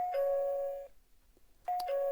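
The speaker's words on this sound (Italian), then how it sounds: "una volta suonato il campanello si accenderà il display" Two electronic doorbell chimes from an EZVIZ CP4 digital door viewer, each a sustained two-tone ding with a brief pause between, clear and close with no talking.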